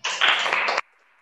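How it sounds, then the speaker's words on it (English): A short burst of applause for webinar giveaway winners, lasting under a second and cut off abruptly into near silence. "Applause to all of you today."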